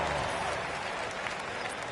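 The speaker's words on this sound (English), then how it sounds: "Give yourself a round of applause." Basketball arena crowd applauds, a dense, steady wash of clapping from many hands throughout the short moment.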